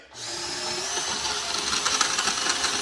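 Cordless drill bit enlarging a hole in a stainless steel mirror bracket on a Peterbilt 379 truck, a loud steady whine starting abruptly and grinding on without pause.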